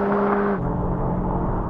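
A BMW M2 engine roars close and loud under hard acceleration in a rolling drag race, its steady tone dropping briefly at a gear change before pulling on.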